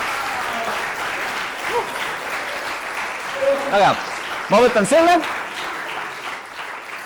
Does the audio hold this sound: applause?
yes